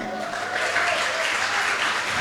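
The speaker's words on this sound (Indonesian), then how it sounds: "Selanjutnya kita sambut dengan tepuk tangan yang paling meriah" An audience at a school's 20th-anniversary celebration and graduation claps in a sustained, dense burst of applause that fills the room at an even, moderately loud level.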